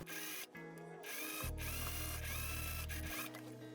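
A sewing machine stitches a seam on a summer dress bodice at close range, a steady mechanical whir with brief pauses between bursts and a stronger, faster run through the middle.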